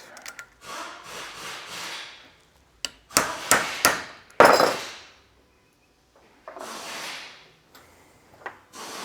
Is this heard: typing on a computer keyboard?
no